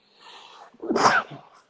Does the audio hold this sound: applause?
no